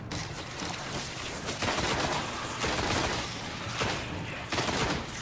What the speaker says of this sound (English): The gun sound effects are actually really, really good too